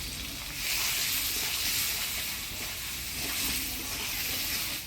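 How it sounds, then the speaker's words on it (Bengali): Boiled taro sizzles with turmeric and salt in a hot pan with a steady, soft hiss that swells slightly a couple of times, heard alone without talk. "সুজি কচুটা হলুদ লবণ দিয়ে ভাজা ভাজা করে নিলাম"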